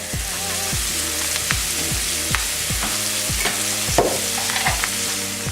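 Onions frying in a skillet sizzle steadily while a utensil scrapes and stirs the pan bottom in repeated strokes, close and clear with no talking.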